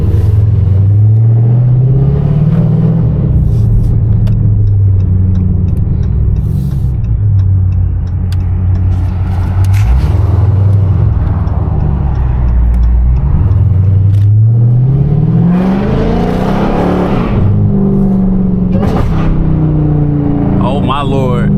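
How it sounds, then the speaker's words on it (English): A loud Hellcat car engine rumbling steadily while cruising downtown, the pitch rising and falling as it revs, with a person talking over it. "I really be forgetting how loud this car is sometimes"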